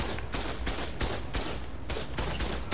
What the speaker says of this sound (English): One turret left shooting me.